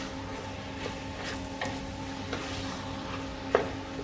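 Beef and mushrooms with madras paste stirred in a pan over high heat, a soft steady sizzle with a few light scrapes and taps of the spoon against the pan, fairly quiet throughout.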